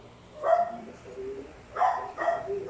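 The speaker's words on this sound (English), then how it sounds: "Who you barking at?" An aspin house dog barks in three short bursts, the second pair coming after a pause, moderately close in a quiet indoor room.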